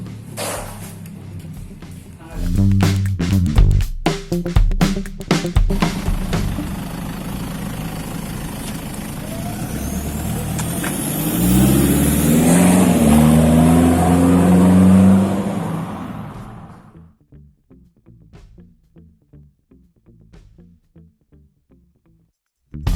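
Toyota Land Cruiser Prado diesel engine with a full exhaust and ECU remap, revving up loud and close with a rising surge, then settling into a quieter idle before cutting off.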